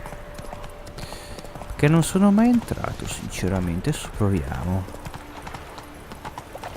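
Horse hooves clip-clopping in The Witcher 3, a steady rhythmic trot heard under someone talking in Italian over gameplay.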